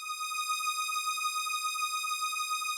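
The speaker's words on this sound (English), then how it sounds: "So these strings are called the Vienna strings 1 from Purity." Vienna Strings 1, a Purity string preset, holds one sustained bright tone steady and unbroken, moderately loud and alone with no talking.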